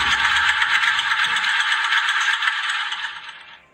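Engine ticking and clattering from worn valves with excess valve clearance in the cylinder head, a fast steady rattle that stays even, then tails off at the end.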